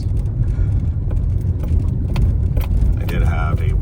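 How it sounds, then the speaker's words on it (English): A Mazda car driving a rough, rocky trailhead road near Whistler, a loud steady low cabin rumble with small knocks and rattles, while someone talks over it. "So far my little Mazda is doing a great job."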